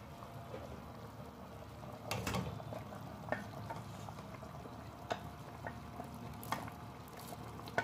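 Boiled mung beans stirred in a cooking pot with a utensil, soft scraping and clinking taps against the pot at irregular intervals, quiet and close.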